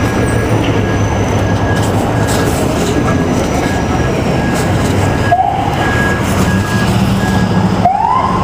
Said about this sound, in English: Fucking subway.